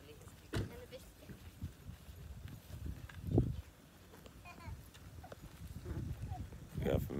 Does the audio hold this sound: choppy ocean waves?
no